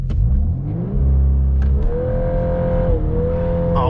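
A 2022 Volkswagen Golf R with a DSG gearbox launches hard under launch control, its engine revving loudly and pulling steadily upward with a brief shift dip midway.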